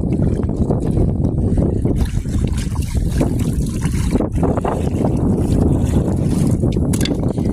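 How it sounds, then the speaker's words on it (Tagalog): Strong seaside wind gusts buffet loudly and continuously, a rough rumbling roar with faint watery splashing underneath. "Hangin pa siya, oh."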